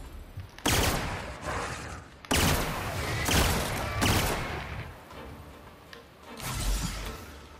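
Weapon fire in The Outer Worlds: loud, dense bursts of rapid gunshots come in several separate volleys, each a second or two long with brief gaps between, ending in a quieter final burst.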